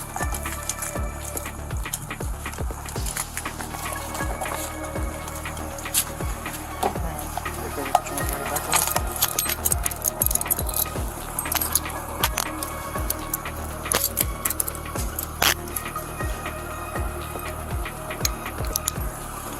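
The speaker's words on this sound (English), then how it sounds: "They collect her vape and her car keys." Car keys jangling as they are collected, with repeated metallic clinks and rattles scattered across about twenty seconds, close and fairly loud over background noise.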